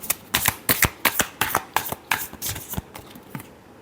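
Tarot cards being shuffled by hand in a quick series of crisp riffling bursts, close and fairly quiet, with brief pauses between flurries and no talking.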